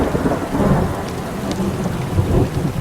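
Steady heavy rain pours on surfaces while low thunder rumbles through, a dense continuous storm wash with no voices.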